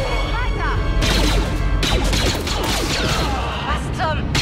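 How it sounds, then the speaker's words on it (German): Rapid blaster shots and crashing combat noise from the Star Wars Outlaws video game, dense overlapping bursts filling the whole stretch at steady loudness. "Ich höre Blaster-Schüsse."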